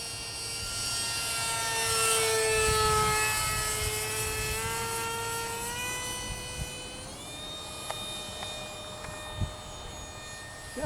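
A radio-controlled model warbird airplane climbs and flies past on a windy day at a flying field, its engine giving a steady high whine that rises, peaks and falls in pitch as it passes, fairly loud throughout.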